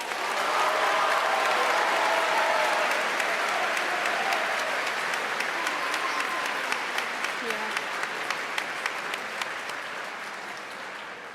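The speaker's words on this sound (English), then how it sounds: "Let's give him a huge round of applause." A crowd claps steadily in sustained applause that gradually thins out toward the end.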